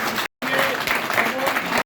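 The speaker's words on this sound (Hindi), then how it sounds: "आपकी भरपूर तालियों में मोहतरम जनाब राजा सरफराज साहब।" A crowd at a local body election public meeting in Islamabad claps for an introduced guest, with a sustained burst of applause after a brief gap, and speech overlapping the clapping.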